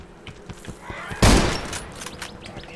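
A sniper rifle firing in the survival shooter Zero Sievert: one loud, close blast with a decaying tail, set among faint clicks and handling noises.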